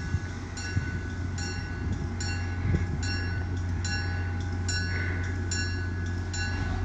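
An MBTA commuter train with an F40PH-3C locomotive and a Comet cab car, running inbound to North Station, rolls past with a continuous heavy rumble and rhythmic wheel clatter. It sounds fairly loud and steady throughout.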